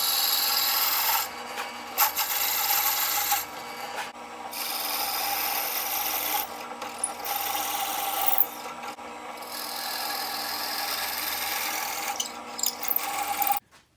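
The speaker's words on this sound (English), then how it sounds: "it still drills through with the Rockler pen press drill jig" A drill press bores through square wooden pen blanks held in a Rockler pen drilling jig, a steady rasping grind that repeats in passes with brief pauses between them, close and fairly loud.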